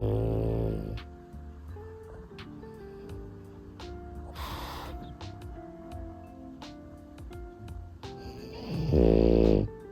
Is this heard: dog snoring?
yes